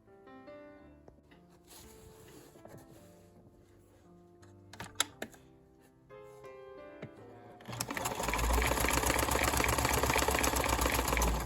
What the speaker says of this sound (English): I need to go back to the sewing machine and baste this together